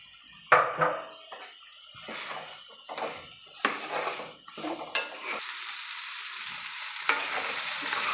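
Boiled, cut potatoes are stirred into an onion-tomato masala for an aloo and hitikida bele kurma, with steady frying sizzle, clinks of a spoon against the pan, and several scraping stirs, close up and with no talk.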